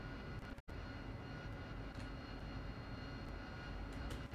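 Simulated AV-8B Harrier jet engine running in the DCS World flight game: a quiet, steady broadband jet whine and roar with one very brief dropout near the start.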